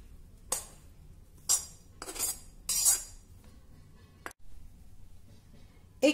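A spoon scrapes and clinks against a bowl while mixing cooked bhagar millet into whisked, sweetened yogurt, giving several short bursts of scraping and tapping separated by quiet pauses, with no talking.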